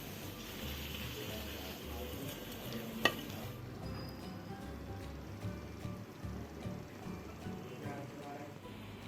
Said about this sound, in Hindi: ये देखिए नीचे से भी फ्राई हो गया।